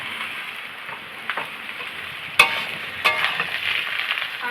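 Ridge gourd and pumpkin pieces stirred over fried onions in a pan, a loud steady hiss of frying with a sharp clack of a spatula and a few scraping stirs, close up, no voices.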